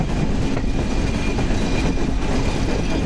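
The Padma Express passenger train runs at night on a leftward curve, its steady loud rumble and wheel noise filling the space without a break, heard up close from on board.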